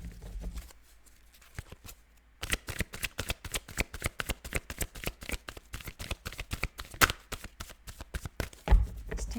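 Tarot cards are shuffled by hand in a rapid, steady run of crisp riffling taps, close and clear, with a short pause near the start before the rhythm picks up.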